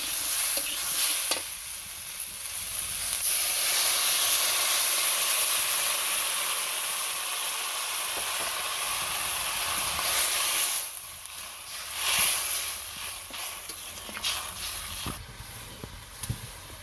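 Water goes into a pan of frying vegetable stalk and potato curry, setting off a loud, sustained sizzle and hiss that settles slightly, then flares again with stirring clatter toward the end.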